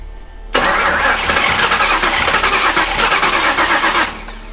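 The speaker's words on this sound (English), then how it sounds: "I'm just gonna crank it over like twice, try and build up some oil pressure, and then we'll go for a start." A chassis-swapped Mustang engine cranks over with its fuel injectors unplugged, a loud, close, continuous churning whir lasting a few seconds before stopping abruptly, with no voices over it.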